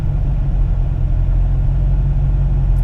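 A car fitted with catalytic converters drives on open road, giving a loud, steady low engine drone and road rumble that holds constant throughout without any talking.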